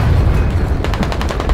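Heavy gunfire in the military shooter Squad, with loud, close, low booming and a rapid run of repeated shots in the second half, and no talking.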